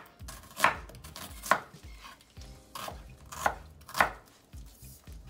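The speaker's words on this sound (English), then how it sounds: "Give it a quick rinse and go down the middle. Just gonna slice it on up." A knife slices through a rinsed, halved yellow onion on a cutting board, giving five distinct, close, crisp thuds at an uneven, unhurried pace with brief quiet between strokes, alone without talk.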